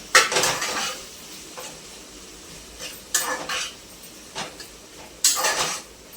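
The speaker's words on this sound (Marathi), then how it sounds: "आता मी टोमॅटो टाकत आहे आणि पोटॅटो दोन्ही टाकून दिलं." Chopped tomatoes and potatoes tipped into a hot pan at home, giving several separate bursts of sizzling and a clatter of utensil against metal, spaced a second or two apart with quiet between.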